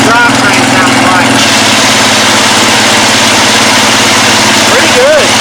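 A project car called "The General" idles loudly and steadily with its engine and drivetrain running throughout, a constant close rumble with a faint whine rising near the end.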